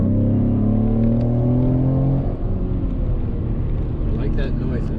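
Ford ST engine note while driving, a loud rising rev with climbing harmonic tones that drops into a rougher steady rumble after a shift.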